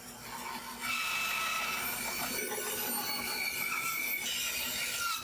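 Walnut and cherry wood strips being cut down to about 3 mm thickness for guitar binding, a steady loud machine rasp and whine of sawing that runs continuously throughout, rising in level after the first second.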